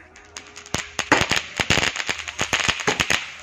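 Strings of small firecrackers burst at a Diwali celebration in Gohana, a rapid, uneven chain of sharp pops and cracks, close and loud, with a faint voice underneath.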